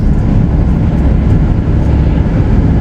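Freight train slowing to a stop, a loud, heavy low rumble with steady grinding and rolling noise filling the whole stretch, close by and unbroken.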